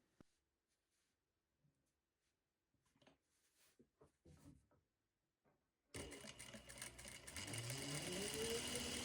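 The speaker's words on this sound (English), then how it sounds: "sew a few lines to secure the scrap to the batting face up." A sewing machine stitches fabric scraps onto quilt batting, starting after several seconds of quiet handling and soft clicks, then running in a loud, close, steady buzzing whir that ramps up in speed.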